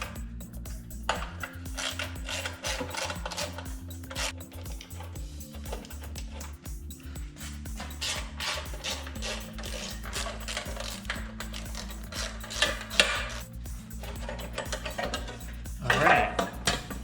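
Recoil starter cover being pried and lifted off a Predator 224 small engine, a run of light metallic clinks, taps and rattles of tools and parts close by, with a low steady hum underneath throughout.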